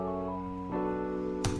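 A chord melody programmed in FL Studio has its root notes dropped two octaves for a deep undertone, giving short sustained synth chords with a strong low end that change twice over a second and a half.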